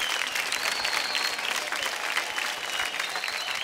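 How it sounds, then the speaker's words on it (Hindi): A studio audience at a TV dance competition claps loudly and steadily for dancers, a dense, continuous wash of applause filling the whole moment. "जोरदार ताली बजाएं"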